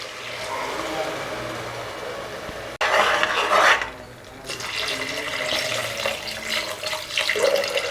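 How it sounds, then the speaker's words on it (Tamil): Water poured into mutton bone curry in a cooking pot, a steady splashing pour that surges louder for a moment partway through, then settles into bubbling and stirring. "இப்போ நம்ம குழம்புக்கு தேவையான அளவுக்கு தண்ணி கலந்துக்கலாம்."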